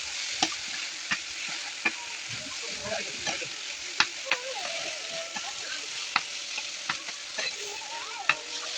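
Noodles frying with spices in a pan, a steady close sizzle broken by regular sharp clicks and scrapes of stirring, with no voices.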